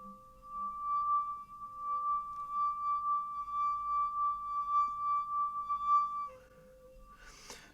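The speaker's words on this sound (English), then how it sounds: "Now watch what happens when we put a wine glass into the equation." A wine glass is pressed to make a horror sound effect, producing a sustained, clear ringing tone that holds steadily for several seconds before shifting pitch and breaking into a harsher scrape near the end.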